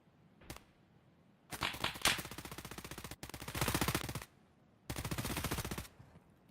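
Rapid automatic gunfire from a pre-fire through smoke in an Escape from Tarkov tournament match, several loud full-auto bursts separated by short pauses, with one sharp single shot before them and no talk.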